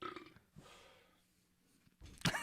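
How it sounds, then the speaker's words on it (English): A single loud, close burp from a man during a casual podcast chat, a short guttural burst rising after quieter breathy noises, heard on its own with no talk over it. "we got to get a burp button"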